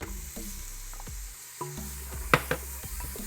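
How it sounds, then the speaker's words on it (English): Chopped onions dropped into melted butter in a hot pan for broccoli soup, a quiet crackling sizzle with scattered stirring clicks and scrapes, no talking. "Now I'm gonna add the onions."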